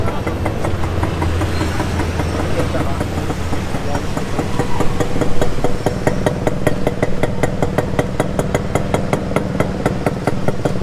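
A motorcycle engine idles and runs steadily on a Balintawak street, with a rapid, rhythmic ticking pulse throughout and people speaking over it.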